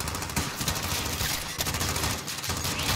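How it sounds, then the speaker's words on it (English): Rapid automatic gunfire in the video game Call of Duty: Modern Warfare campaign, a dense, loud, continuous fusillade of shots filling the whole moment with no talk. "I'm getting shot."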